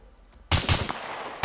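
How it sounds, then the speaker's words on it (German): Two loud gunshots crack close together in the survival video game SCUM, followed by a lingering echoing tail, after half a second of quiet. "Ich will mal schießen"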